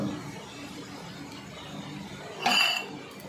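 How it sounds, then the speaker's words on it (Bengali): A metal lid set onto a pan on a gas stove gives one bright clink near the end, after a quiet stretch of low kitchen hiss. "আমি এবার একটা ঢাকনা চাপা দিয়ে দিলাম।"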